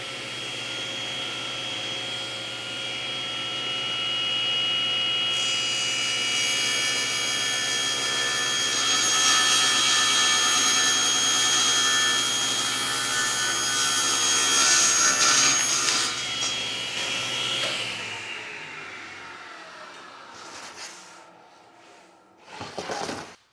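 A power saw cuts through a piece of wood in a woodworking shop, a loud, steady whirring roar that holds for about fifteen seconds, then winds down into quiet, followed by a couple of light knocks.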